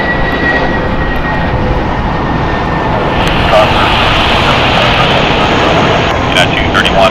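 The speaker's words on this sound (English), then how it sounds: "It's a Boeing 737-800, 16 years old." A 16-year-old Alaska Airlines Boeing 737-800 in Salmon People livery roars on departure from LAX, a loud, steady broadband engine rumble with faint talk beneath it.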